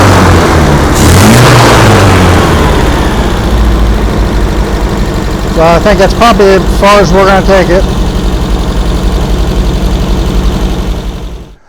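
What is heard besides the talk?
1974 MGB GT engine running a little rough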